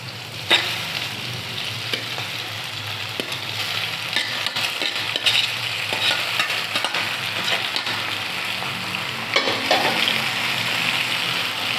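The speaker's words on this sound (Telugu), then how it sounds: "ఈ విధంగా యాడ్ చేసుకున్న తర్వాత దీన్ని ఒకసారి ఇలా కలుపుకోవాలి." Boiled pasta being stirred into a hot pan of Rayalaseema-style spiced fry, giving a steady close sizzle with scraping and stirring throughout and no talking.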